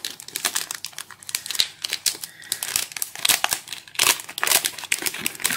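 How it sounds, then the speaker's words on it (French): Pokémon Sun and Moon booster pack foil wrapper torn open and crumpled by hand, a dense run of crinkling, tearing rustles with sharp bursts throughout, close and fairly loud, no talking. "Je suis complètement en train d'exploser le booster."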